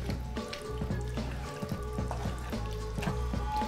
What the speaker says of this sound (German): das Ganze dann so ein bisschen köcheln lassen